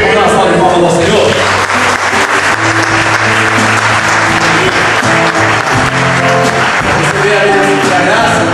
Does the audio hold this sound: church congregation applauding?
yes